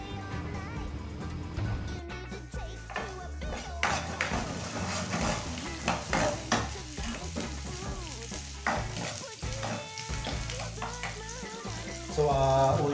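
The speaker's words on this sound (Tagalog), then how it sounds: "So, una ko palang ginigisa itong seafood natin, guys." Seafood sautéing in a hot pan makes a close, crackling sizzle broken by spatula scrapes and clacks, while a person talks over the cooking.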